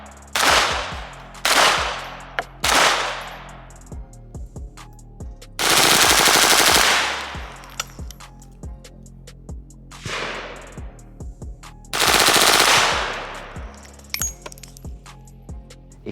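Two Scorpion submachine guns fired at the same time, dual wielded, in loud rapid bursts of about one to two seconds, with spent casings clinking and rattling on the ground between the bursts, close and without talking.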